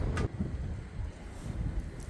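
Wind blows into the microphone in low, rumbling gusts that rise and fall in central Düsseldorf, with no other clear sound.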